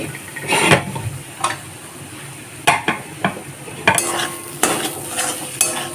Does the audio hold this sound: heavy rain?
no